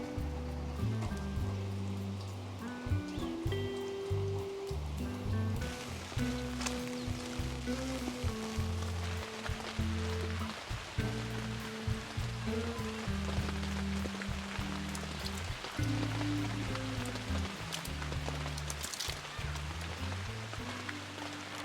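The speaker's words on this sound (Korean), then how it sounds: "지금 보니까 비가 점점 더 많이 와서" Rain drums steadily on a tent at a campsite in Yeongwol, Gangwon Province, a dense continuous patter lasting the whole stretch, with low tonal sounds running underneath.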